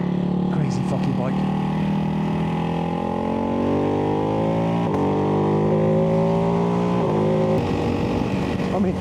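A Ducati Hypermotard V2 motorcycle rides steadily with loud, continuous engine drone, its pitch rising and falling through gear changes amid steady wind rush.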